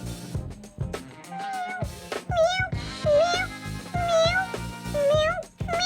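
A cartoon cat meows again and again, its rising and falling cries coming in quick succession over a busy backing track of music.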